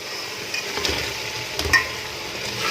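Carrots being stirred into mixed vegetables frying in a pan, with a steady soft sizzle and a few scraping stirs of a spoon, no one talking.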